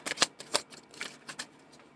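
A deck of heavy tarot cards is shuffled, a quick run of crisp riffling slaps and flutters in uneven bursts, close and clear with no talk.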